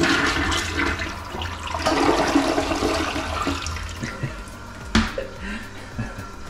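A toilet flushes in a newly built cabin bathroom, with a loud rush of water that gradually fades into trickling and refilling.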